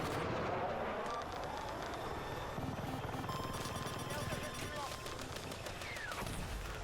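An attack helicopter in Battlefield 6 fires steadily amid a dense battlefield din of rotor noise and scattered gunfire, with a voice talking over the continuous, loud mix.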